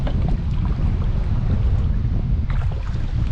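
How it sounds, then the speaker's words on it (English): Strong wind on open water during a kayak outing on Lake Erie, a loud, steady roar buffeting the microphone with gusting low rumble throughout and no talk. "This wind is atrocious."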